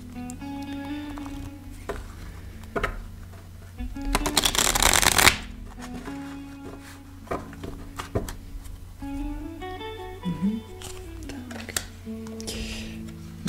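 A deck of tarot cards gets shuffled by hand during a reading, a burst of loud riffling in the middle with softer card handling before and after, set against light background music.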